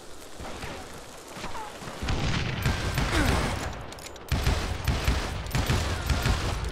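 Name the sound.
gunshots from the video game Call of Juarez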